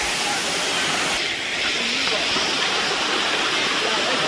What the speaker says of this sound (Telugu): కడపలో ఈ రేంజ్ వాటర్ ఫాల్ ఉండడం నేను ఫస్ట్ టైం చూద్దాం